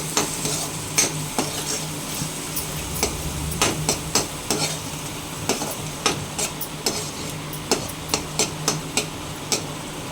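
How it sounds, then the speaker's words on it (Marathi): Garam masala, coriander powder and salt stirred into an egg masala in a pan: a steady sizzle under a regular series of close spatula taps and scrapes on the metal, with no speech. "गरम मसाला, धने पावडर, मीठ चवीप्रमाणे हे चांगलं मिक्स करून घेऊया"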